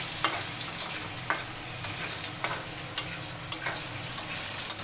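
Potatoes fry in oil in a pan for a Bengali fish curry, a steady sizzle broken by regular sharp scrapes and clicks of a stirring spatula, close and without speech.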